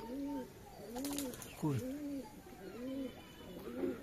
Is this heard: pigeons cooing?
yes